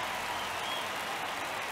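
A baseball stadium crowd in MLB The Show 23 roars with a broad, steady wash of cheering and clapping, with no gaps.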